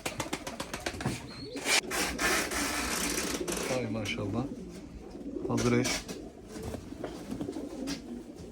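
Pigeons of several fancy breeds, including Rakkas, Kıvırcık, Pembe, İspir, Ardioza, Pesigreli and homing pigeons, coo softly and repeatedly in a loft, under a man's nearby speech with light rustling throughout.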